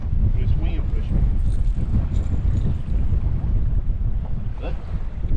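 Wind buffets a fishing boat drifting slowly on cold winter water while blue catfishing, a steady, loud low roar of gusts across the microphone with faint splashing underneath throughout.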